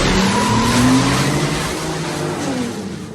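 A car peels away in a movie scene with loud, sustained tire squeal and engine roar, the screech sliding in pitch over about three seconds as it speeds off close by.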